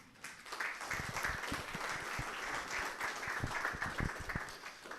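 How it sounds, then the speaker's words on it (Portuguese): A church congregation gives a pastor a warm round of applause, steady mid-level clapping from many hands lasting several seconds before tapering slightly. "vamos receber o pastor Ronilson Pascolato com uma calorosa salva de palmas."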